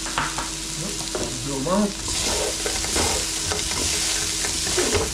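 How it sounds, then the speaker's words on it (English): Salt and pepper squid sizzles steadily in a hot pan as it is stirred with onion, garlic and chili peppers, utensil scrapes and clinks standing out over the frying, with a brief spoken remark early on. "So what we're going to do now, put in the squid back in there."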